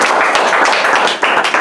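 A church congregation claps for the Lord during an evening Bible study service, dense and steady applause from many hands filling the room with no voices heard.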